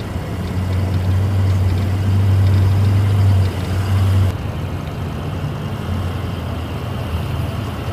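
A monster truck idles off-road in Iceland near an ice cave, a deep steady engine rumble with a strong low drone that drops in level about halfway through and then settles into a quieter idle, loud and close, no talk.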